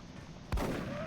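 A single gunshot fired in the strategy game XCOM: Enemy Within, a sharp loud crack with a low boom followed by a lingering rumble, heard alone with no talk.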